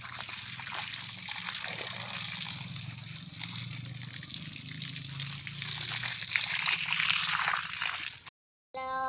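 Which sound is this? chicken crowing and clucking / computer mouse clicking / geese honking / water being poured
water being poured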